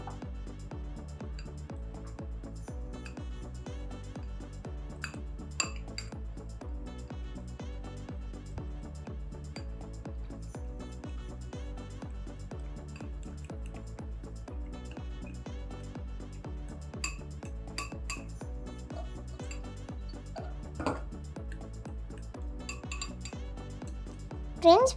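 Maida flour batter being stirred with water in a cup by spoon, a steady rhythmic scraping and clinking against the cup that continues throughout with occasional sharper taps.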